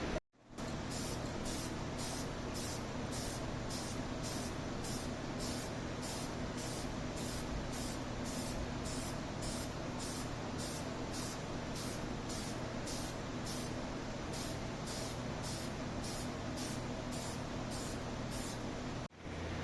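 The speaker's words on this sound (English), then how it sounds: "put the toner on the top, and just see if we can smooth the color out" An aerosol can sprays toner onto a Firestone Fire Chief radio cabinet in one long, steady, loud hiss lasting nearly twenty seconds, with a faint rhythmic pulsing and no talk.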